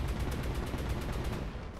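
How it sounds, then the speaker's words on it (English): Rapid machine gun fire from a tank in War Thunder, an Object 279, rattling in a dense continuous burst at close range, loud and steady with no pause. "And we machine guns him."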